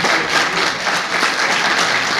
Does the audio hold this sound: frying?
no